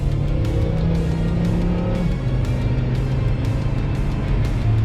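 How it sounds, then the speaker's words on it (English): A 2007 Volvo S60R with all-wheel drive launching on snow, its engine roaring loud and steady close by, pitch holding then dropping slightly as it pulls away, with no talk over it. "to show us a little bit of an all-wheel drive snow launch"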